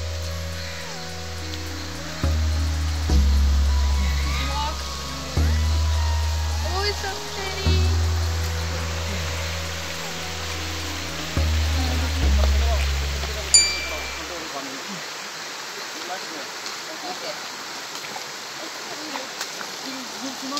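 Rushing water at Rampanalgas waterfall, a steady broadband roar under a voice speaking in bursts, while a low engine-like drone cuts out partway through and the flow carries on alone.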